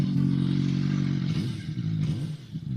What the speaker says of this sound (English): Let's rev it up a bit for you guys.